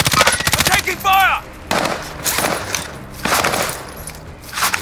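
Gunfire in the Warzone battle royale video game, set on the Caldera map: sharp, close bursts of rapid shots broken by short pauses, mixed with in-game radio voice callouts.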